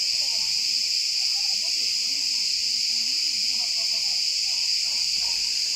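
Cicadas chirping in August at Uzuncaburç, a dense, continuous high-pitched buzzing that stays loud and steady throughout, with faint low background sounds beneath.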